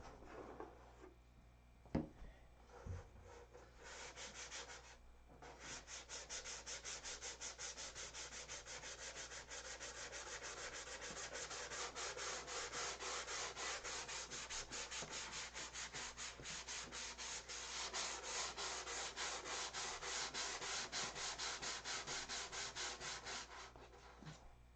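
A Tucker car body is sanded by hand in a continuous, rhythmic rasping scrub that runs for over twenty seconds, starting after a few light knocks.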